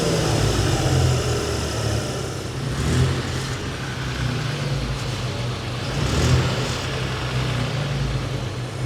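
A car engine revs in a few loud swells, then settles back toward a steady idle, close and continuous throughout.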